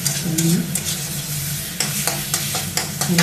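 Spices frying in a pan for a Bengali spinach ghanto, with steady close sizzling and repeated scraping stirs over about three seconds, no talking.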